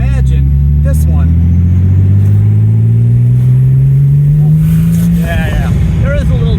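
A Porsche 930 Slantnose Turbo pulls hard, its engine note climbing steadily and loudly up through the revs before easing off near the end, with a voice briefly audible over the close interior roar.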